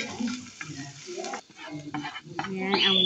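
Onion drops into ginger frying in a pan for chicken curry and gets stirred. A short, close sizzle comes with stirring scrapes, and a voice talks over it.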